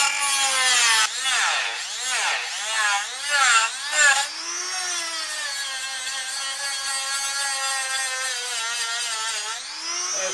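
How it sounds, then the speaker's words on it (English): A Dremel rotary tool cuts through the heads of Allen bolts on a Yamaha Dragstar 650, a shrill close-up whine that wavers with pressure at first, then holds a steady grinding tone before a brief change. "Dremel's out, and I'm going to basically cut the heads off"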